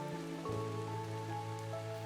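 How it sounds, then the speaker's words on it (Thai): Rain keeps falling around a floating raft house on the Chiew Larn reservoir, a soft, faint, steady patter accompanied by a low continuous hum. "ฝนก็ยังตกอยู่"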